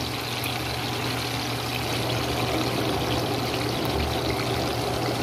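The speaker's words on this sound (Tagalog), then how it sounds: "Kumukulo na yung ating nilagay na tubig para sa tinulang isda." Water comes to a boil in a cooking pot with lemongrass for Filipino tinulang isda (fish soup), giving a steady, continuous bubbling and hissing wash at close range with no talking.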